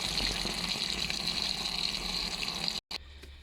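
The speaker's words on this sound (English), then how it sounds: "I'm just going to fill this with water and make sure all the leaves are submerged" A steady gush of tap water pours into a water butt filled with comfrey leaves in a garden, continuous and close, then cuts off briefly near the end and resumes more quietly.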